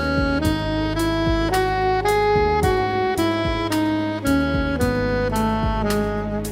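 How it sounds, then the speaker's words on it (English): A melodic line in the Phrygian mode, with a flattened second degree, played as about nine clear tones that follow each other at an even, unhurried pace with no voices. "This is known as the Phrygian mode,"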